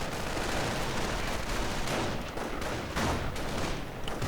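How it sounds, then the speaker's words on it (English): Dense, continuous gunfire from an aircraft strafing run in a World War II-style war strategy game, loud and sustained with overlapping bursts and explosions throughout, no voices. "He's using smoke and a strafing run"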